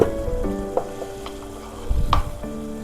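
Curry leaves and masala powder fry in a pan of chilli and cashew curry, a loud close sizzle and crackle with stirring scrapes and a couple of sharper spatters.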